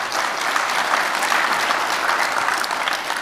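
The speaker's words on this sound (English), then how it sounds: "Round of applause for him." Conference audience at an annual awards presentation applauding a third-place distributor, a continuous, even wash of many hands clapping at close range.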